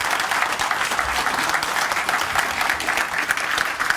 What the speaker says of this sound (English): make him feel real, real welcome by giving him a hand clap of applause as he comes